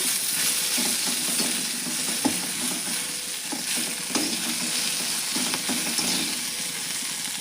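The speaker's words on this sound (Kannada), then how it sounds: "ಮತ್ತು ಕಬ್ಬಿಣ ಕಡಾಯಿದಾಗ ಹುರಿಬೇಕು ನೋಡ್ರಿ, ಭಾರಿ ಲಘು ಹುರಿತಾವ." Okra fried and stirred in an iron kadai, giving a steady close sizzle throughout with occasional sharp scrapes and knocks of the spoon against the metal.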